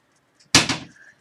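A cat in a kitchen pulls open a cabinet door, making a single sharp knock followed by a brief clattering rattle that quickly fades, fairly close and clear.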